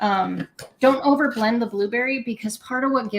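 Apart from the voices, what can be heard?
None of the usual background noises is heard.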